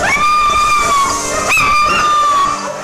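Stray dogs howl and whine loudly in a long, sustained, wavering cry that briefly breaks and rises again, heard close up with no other sounds.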